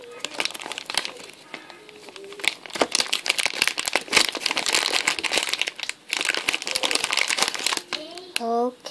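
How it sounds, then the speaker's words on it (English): Plastic packaging of a Cafe De N macaroon crinkles and tears open close up, a run of sharp rustling and crackling bursts with brief pauses, while a voice talks quietly over it. "Okay, the packaging is torn."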